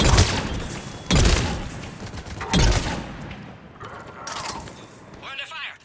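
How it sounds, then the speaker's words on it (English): Gunfire in the video game Mass Effect 3, several sharp blasts and thuds spaced a second or so apart, with mechanical clatter and game voices in between. "We're under fire."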